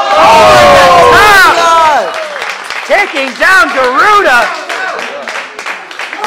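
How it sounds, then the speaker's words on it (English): Wrestling crowd at a live pro wrestling event cheers and applauds loudly, a big roar that dips and swells again, heard under excited commentary from an announcer. "listen to the crowd. Very appreciative of this kind of action."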